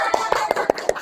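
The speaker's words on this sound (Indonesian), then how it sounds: "Tepuk tangan sekali lagi." A classroom group claps hands in a short burst of sharp, separate slaps in a loose uneven rhythm, close by, with faint murmuring behind.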